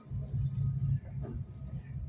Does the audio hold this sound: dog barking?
no